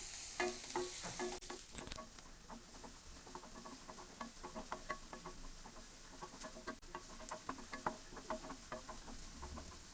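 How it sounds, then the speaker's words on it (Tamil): Chopped large onion sautéing lightly in hot oil for a Chettinad katla fish curry, a steady soft sizzle with scattered stirring clicks and scrapes throughout, no talking. "இப்போ இந்த வெங்காயத்தை லைட்டாக வதக்கிக்கலாம்"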